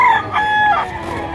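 A rooster crows loudly and close at a busy livestock auction market, one short strained call with other fowl and background murmur beneath.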